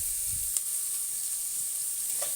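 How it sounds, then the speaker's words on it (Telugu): Ginger-garlic paste and garlic cloves fry in oil with a steady, close hiss and a faint stirring scrape, with no voices. "వేగుతున్నాయి కదా, బాగా వేగాయి."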